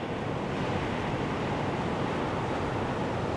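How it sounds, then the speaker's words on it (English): Ocean surf pounds the shore near a rainy beachside campsite, a loud, unbroken roar of crashing water with no pauses and no voices. "The sound of the waves is just relentless."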